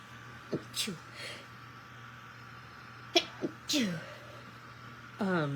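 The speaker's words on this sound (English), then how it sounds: "I'm going to sneeze." Someone sneezes close by, with a few short breathy bursts and gasps around it. A low steady hum runs underneath.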